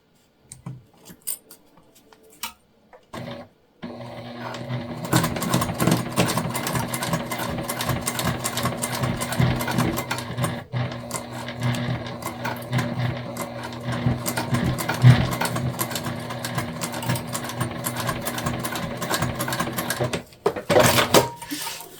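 A sewing machine stitches a crossbody bag, its needle hammering in a steady rapid rattle for most of the stretch after a few short starts and stops, close and loud with no talking.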